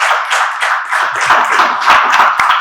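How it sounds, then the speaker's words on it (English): An audience applauds at a health informatics talk, a close, lively patter of clapping hands that continues evenly without voices. "Give me a round of applause."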